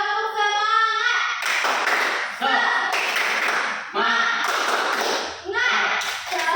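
A classroom of children performs a rhythmic cheer clap, tepuk semangat, in loud repeated bursts of sharp hand claps with short pauses between rounds, mixed with children's voices.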